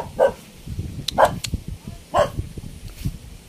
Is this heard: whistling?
no